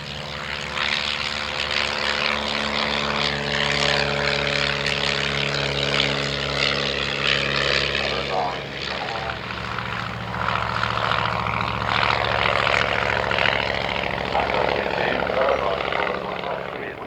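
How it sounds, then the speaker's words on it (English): A vintage Blackburn B-2 biplane's piston engine and propeller drone steadily through its takeoff roll at an evening air display at Shuttleworth, loud and sustained, with a commentator talking over it. "Starting his takeoff roll, the Blackburn V2"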